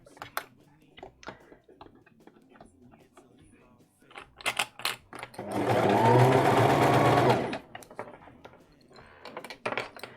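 A sewing machine stitches fabric sleeves in one sustained run of a few seconds, loud and close, with brief clicks and handling noises around it and no clear talk during the run.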